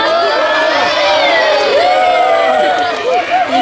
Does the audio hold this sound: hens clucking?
no